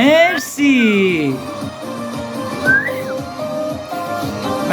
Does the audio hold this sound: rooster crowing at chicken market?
no